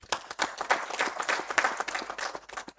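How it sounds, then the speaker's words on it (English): A round of applause for business partners at a Ministry of Trade event, with individual claps clearly distinguishable in an uneven, moderately loud burst from a modest crowd. "Please give them a round of applause."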